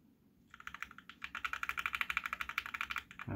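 Keys clack on a Matrix Noah mechanical keyboard in a quick, fairly even burst of about twenty close strokes, starting sparse and then speeding into a steady run.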